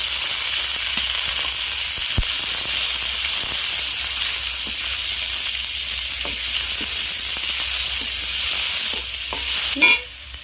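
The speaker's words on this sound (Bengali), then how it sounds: "এবার দিয়ে দেবো ক্যাপসিকাম কুচনো" Chopped capsicum hits a pan of fried onion, garlic and ginger and sizzles in a steady, loud, close hiss, with a few stirring clinks and scrapes near the end.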